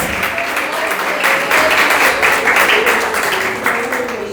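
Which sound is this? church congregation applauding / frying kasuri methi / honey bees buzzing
church congregation applauding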